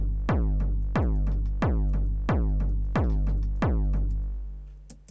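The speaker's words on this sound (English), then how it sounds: "So that's your typical Microtonic sound." Six booming hardcore kicks from a Microtonic drum synthesizer plugin preset, dry with no inserts, each a hard click dropping into a long pitched-down tail, struck at a steady pulse about two-thirds of a second apart, loud and alone.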